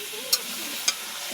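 Meat and potatoes stir-fried together in a pan, a soft continuous sizzle broken by two sharp scraping clicks of a spatula, close and alone.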